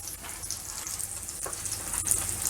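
Vegetables sautéing in a pan make a steady, soft sizzle and crackle at close range, with no voices over it.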